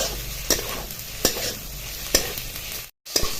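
Dry spices being stirred and sautéed in a pan for a Marathi winter amti: a steady sizzle with three or four sharp spoon scrapes at regular intervals, close and fairly loud, with a brief cut near the end.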